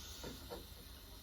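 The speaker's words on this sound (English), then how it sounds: "I think it's self-releasing the steam because it's there" A kitchen appliance vents steam on its own, a steady soft hiss with two brief puffs, quiet and close, with no voices.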